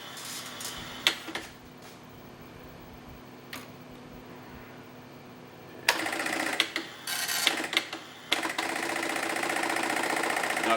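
A Vic-20 printer at a vintage computer show prints and then feeds out a whole page, with faint scattered ticks and clicks first, then a louder, steady mechanical buzzing and whirring with brief stops toward the end.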